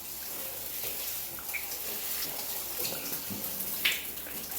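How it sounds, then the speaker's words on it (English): Running water rinsing shampoo out of hair, a steady close splashing hiss with small irregular spatters, moderately quiet and without talking. "I'm rinsing this off after the second shampoo."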